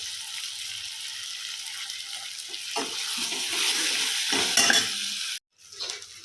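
Vegetables sauté in a pan with a soft, even sizzle and occasional stirring scrapes, growing a little louder before a brief dropout and a final hiss; no voices.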